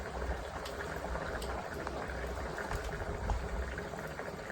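Fish simmering in a pot of boiling water, a steady close bubbling and churning with no pauses and no voices.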